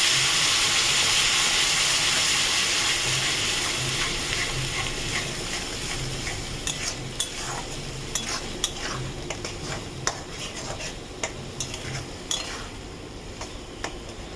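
Whisked sour yogurt hits a pan of fried spice masala with a loud, bright sizzle that gradually fades, followed by scattered scrapes and clinks of a spoon stirring against the pan.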